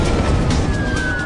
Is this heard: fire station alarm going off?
yes